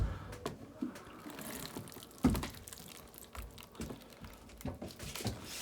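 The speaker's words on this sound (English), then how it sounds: "Got a watering can. Just gonna hit it with some water." Water pours from a watering can onto freshly planted turmeric rhizomes, a soft continuous splashing and trickling with a few sharper splats, close by with no talking.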